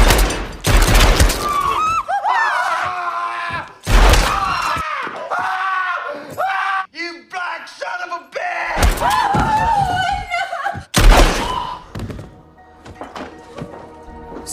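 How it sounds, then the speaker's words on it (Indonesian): Gunfire from a film shootout: several loud bursts of shots and heavy thuds come in clusters, mixed with dramatic music and other film sound. "Tanpa basa-basi, Django pun menembak mereka semua."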